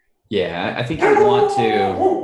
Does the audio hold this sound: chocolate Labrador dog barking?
yes